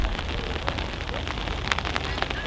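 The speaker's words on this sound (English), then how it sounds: "listen to the pitter patter of the falling rain" Rain falling outdoors at a country show, a steady pitter-patter of drops striking nearby surfaces, with scattered louder taps standing out against the constant hiss.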